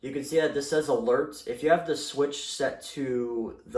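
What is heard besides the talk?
No distinct noise like a dog, phone or traffic.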